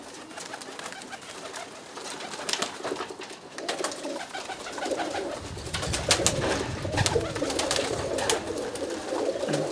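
Roller pigeons coo in a loft during breeding season, soft repeated throaty calls rising and overlapping, with wing flutters and rustling close by, no voices.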